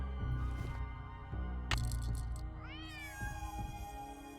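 Yuri the cat in the Nancy Drew game Secret of the Old Clock meows repeatedly and loudly, drawn-out cries with a rising, wavering yowl near the end over a low steady background hum.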